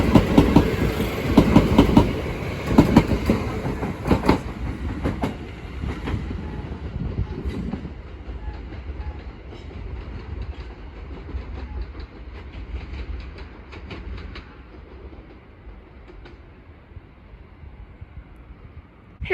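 A British Rail Class 379 train passes at Bethnal Green, loud rumbling and rhythmic wheel clatter at first that gradually fades into a softer, receding roll as it moves away.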